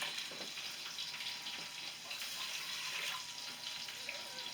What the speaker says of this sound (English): Fill this up with water.